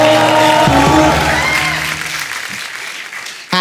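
Loud studio audience applause on an Indian TV comedy show, a dense wash of clapping with some cheering that fades slightly after the first second, music tones underneath, then a fresh burst at the end.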